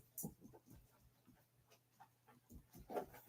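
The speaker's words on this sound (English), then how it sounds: "That's my neighbor's dog." A neighbor's dog pants faintly nearby, with quick, soft, rhythmic breaths running through a quiet background.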